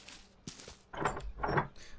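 A locked door is tried in the video game Hello Neighbor: a few short, loud rattling knocks and handle clunks in an uneven rhythm, heard alone.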